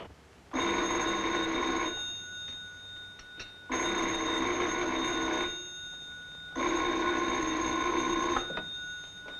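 An old-fashioned telephone bell in a 1943 comedy film rings in three long, loud bursts separated by short pauses, with no talk over it.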